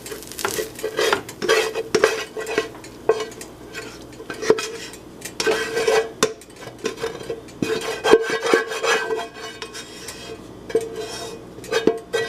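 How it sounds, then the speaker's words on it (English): Five kinds of rice stirred in a big pan, continuous close scraping and clinking of a utensil against metal with a faint sizzle beneath, busy and uneven, no talking. "And then we're just gonna stir this on up."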